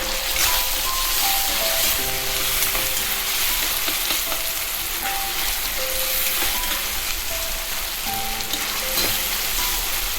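Tomatoes sizzling in a hot pan after salt goes in, for a pumpkin pulusu: a steady, loud frying hiss that runs the whole time, with a few scattered pops and faint clinks.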